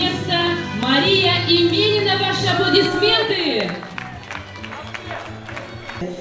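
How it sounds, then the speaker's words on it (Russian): A crowd at a sports run's awards ceremony breaks into applause and cheering right after an announcer's drawn-out voice, with a lively mix of claps under lingering talk. "Ваши аплодисменты!"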